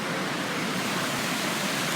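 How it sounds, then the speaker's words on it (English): Broad, steady rushing of water as someone wades through a flowing river, a loud continuous hiss close by with no voices. "I am casually gonna walk in this river"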